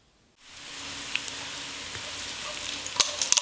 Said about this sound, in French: dans le wok, j'ai mis l'huile d'olive, l'ail et la sauge. Et je vais porter sur le feu.